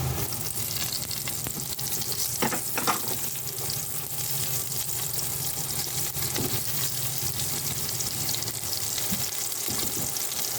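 Chopped garlic and onions sizzle in hot oil in a pan, a steady dense crackle with occasional stirring scrapes, continuous and close throughout.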